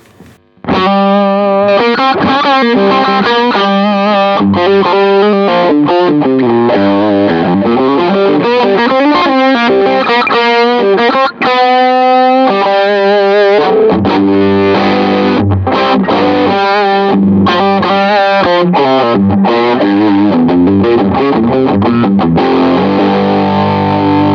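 An electric guitar plays through an IK Multimedia X-Gear green boost pedal, loud and distorted, with sustained chords and quick riffs that run steadily for the whole passage.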